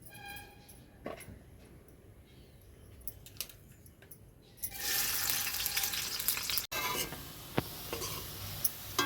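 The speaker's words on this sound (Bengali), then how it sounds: "তো প্রথমে পেঁয়াজগুলো ভেজে নেব," Onions for birista are dropped into hot oil, starting with a few small clicks and taps before a loud, dense sizzle bursts in halfway and keeps crackling steadily up close.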